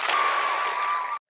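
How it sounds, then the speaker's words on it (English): Canned applause sound effect, a dense burst of clapping at steady loudness for just over a second before cutting off abruptly to silence. "I'm probably going to play the applause sound a lot"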